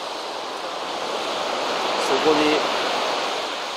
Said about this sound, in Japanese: また野鳥が群れている河口へやってまいりました